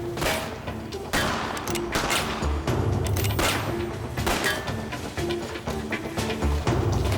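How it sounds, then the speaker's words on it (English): Loud bursts of gunfire ring out during a carjacking, with rapid shots and booming cracks repeating across several seconds. "There was an exchange of gunfire."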